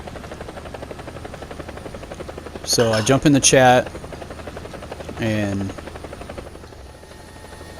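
A helicopter in a video game flies with a constant dense rotor buzz and hum filling the whole stretch, as someone talks briefly over it.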